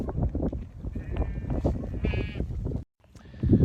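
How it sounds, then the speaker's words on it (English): Sheep bleating nearby, several overlapping calls over a busy background, with a brief drop to near silence before the noise resumes. "Sheep are involved as well, as you can see."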